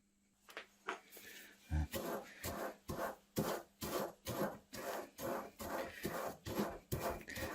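Granulated coffee, about two and a half tablespoons, ground into powder, giving repeated rasping, scraping strokes in a steady rhythm, close and fairly loud, with a brief low thump near the start.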